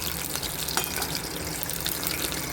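Stuffed green chilies frying in hot oil over low heat, a steady close crackling sizzle that runs unbroken with no talk.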